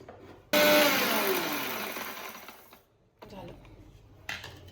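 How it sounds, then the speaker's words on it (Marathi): A kitchen mixer grinder whirs loudly for about two seconds as it grinds ingredients fine, then stops, followed by a quieter second burst and a brief restart. "नंतर याच्यामध्ये मिक्सरमध्ये टाकलं आणि आता याला बारीक केलं"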